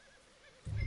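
A horse in the video game Red Dead Redemption 2 gives a low, loud snort-like neigh that bursts in near the end after a faint, quiet stretch.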